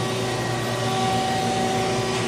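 A vacuum cleaner on a book-finishing machine draws away slit laminate trim after it passes under a roller, giving a steady, close, unbroken drone with a faint whine on top and no voices.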